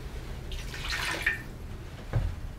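Half a cup of water splashes and trickles into a pot of elk goulash for a couple of seconds, a soft pouring wash with a brief thump near the end.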